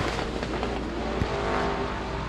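Modified race cars battle for the lead on the Devils Bowl Speedway dirt track, engines roaring loudly and continuously in a dense pack, with a brief sharp pop partway through.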